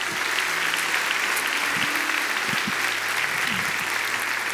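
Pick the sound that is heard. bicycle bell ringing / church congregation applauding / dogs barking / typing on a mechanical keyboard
church congregation applauding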